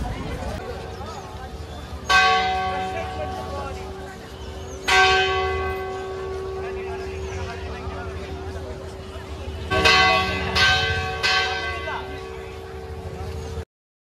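Velankanni Matha church bell rings loudly with several separate ringing strikes that hum and fade between hits, heard close and clear over low outdoor background noise.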